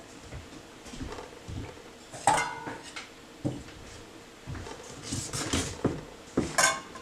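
Lavender bath powder is scooped and divided into bowls, with scattered close clinks and knocks of a utensil against the dishes and soft scraping between them.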